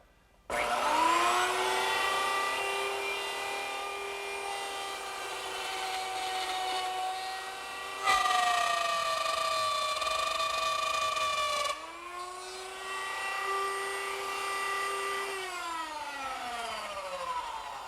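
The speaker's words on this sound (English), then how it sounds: "to cut that, I use the same router setup with a stop block in a new position and a reference line to plunge down into the router bit" A plunge router cuts a mortise into a wooden chest leg: the motor spins up to a loud, steady high whine that sags slightly under load, cuts off, restarts, then winds down at the end, with no voices.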